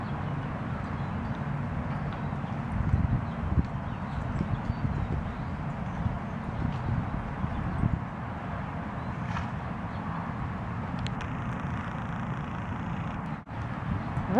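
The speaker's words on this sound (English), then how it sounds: "What a pretty horse." Horse hooves clip-clop steadily at a trot or canter across ground, a continuous rhythmic beat under light wind with no talking.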